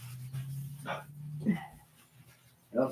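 A dog gives a few short whimpers and yips with a brief bark, close and fairly quiet, over a low steady hum in an indoor room.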